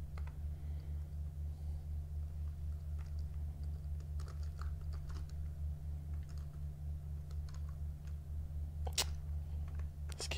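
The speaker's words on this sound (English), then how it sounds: "This keyboard, man." Quiet, scattered keyboard clicks over a steady low electrical hum, with a few sharper key taps near the end.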